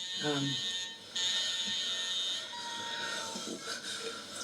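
A sustained electronic buzzer tone from a film's sound design holds steady and prominent throughout, with faint breathing-like texture and low murmurs beneath it.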